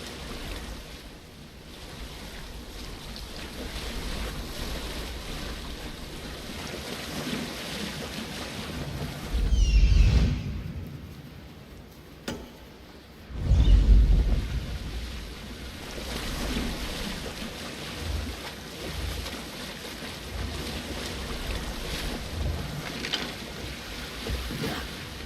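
A boat sailing over deep ocean water in a video game, a constant wash of waves and wind with two louder surging swells midway, no talking.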